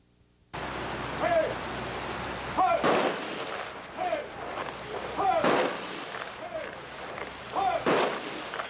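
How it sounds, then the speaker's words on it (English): Rifle volleys of a 21-gun salute ring out at the dedication of a peace officer memorial in St. Paul, about seven sharp cracks at regular intervals, each trailing into an echo outdoors. "A 21-gun salute marked the dedication of the new Peace Officer Memorial in St. Paul"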